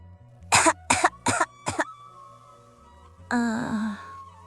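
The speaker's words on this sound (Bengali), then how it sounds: "অনয় কাশছে" A cartoon child coughs four times in a quick, close burst, then gives a longer hoarse, wheezing cough-groan after a short pause.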